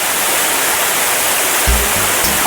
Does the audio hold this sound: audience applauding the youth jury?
no